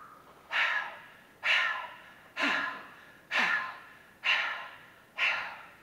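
Six sharp inhaled gasps repeat at a regular pace about one second apart, each a loud breathy rush that tails off, in a demonstration of a breathing technique with no talk between them.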